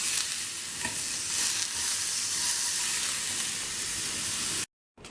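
Fish and vegetable patties frying in a pan make a loud, continuous close sizzle that holds steady, then drops out abruptly near the end before returning briefly.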